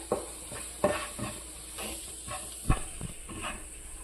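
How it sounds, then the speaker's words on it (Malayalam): Spice powders are stirred in a pan with soft, rhythmic scraping strokes over a faint steady sizzle. The sound is quiet and close, with no talking. "ഇനി നമുക്ക് ഇതെല്ലാം കൂടെ ഒന്ന് മിക്സ് ചെയ്ത് കൊടുക്കാം."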